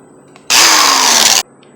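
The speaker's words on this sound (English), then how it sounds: "Drill the hole." A power drill bores a hole in a broken Porsche 993 C4S power window switch, one loud, steady whine lasting about a second with an abrupt start and stop, heard without talk.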